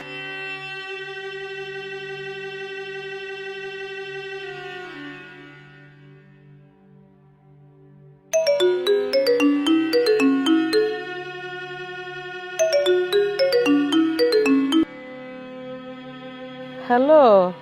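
A phone ringtone plays a loud, close melodic tune in bursts: one long phrase, a pause, then repeated chiming runs separated by short gaps, with no talking over it.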